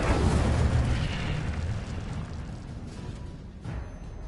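Incendio fire spell cast in Hogwarts Legacy, a loud whooshing, roaring burst of flame that slowly fades over a few seconds with a slight swell near the end.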